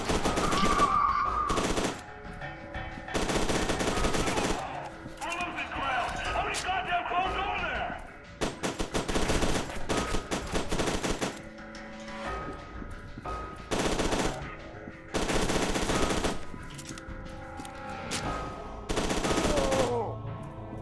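Bursts of rapid automatic gunfire while shooting enemies in F.E.A.R. 2: Reborn, loud repeated volleys separated by short gaps and game ambience, with a voice talking at points.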